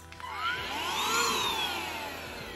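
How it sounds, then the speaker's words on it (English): A small Bissell mini vacuum cleaner with a single setting whirs up, its motor whine rising and sweeping in pitch before settling, running steadily and fairly close for a couple of seconds. "This is a Bissell vacuum. It's like a mini vacuum cleaner."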